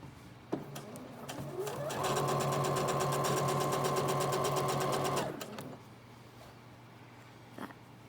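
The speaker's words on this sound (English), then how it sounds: "I am going to backstitch over each one of those just to secure it a little bit better" A sewing machine backstitches across a cuddle blanket, spinning up into a rapid, even mechanical chatter that runs nearby for about three seconds before slowing and stopping, with faint handling sounds on either side.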